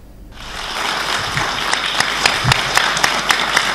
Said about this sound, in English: Claps and applauses.